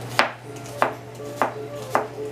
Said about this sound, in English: So I'm going to go ahead and julienne them.